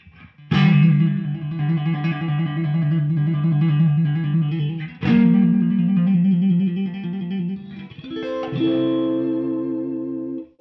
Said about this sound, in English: To a real nice fullness on this neck pickup.